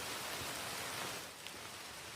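Steady hard rain falls on a forest trail as a storm moves in during a solo hike, a dense, even hiss filling the scene, fairly faint and with no voices.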